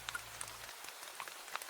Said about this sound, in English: Outside, the rain draws silver lines down the window.